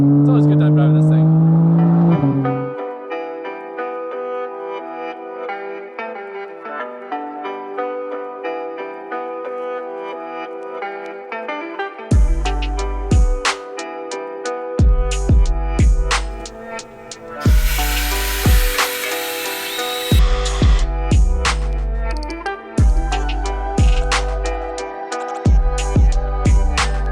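A Mitsubishi Evo 5 runs at night with its engine revving and dropping through sharp, repeated bursts and pops, ranging from a low drone to loud, choppy shifts, with a spoken voice now and then.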